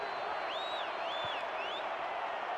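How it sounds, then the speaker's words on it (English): A video game football stadium crowd roars steadily and loudly throughout, a broad wash of massed noise with a whistle-like tone sliding above it. "The crowd comes to their feet."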